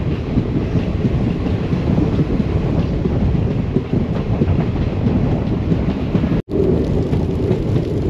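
The Mysuru–Talaguppa Intercity Express moves off the Mysuru main line onto the Holenarasipura–Hassan branch line, a loud, close, continuous rumble of wheels and carriages with a brief dropout near the end.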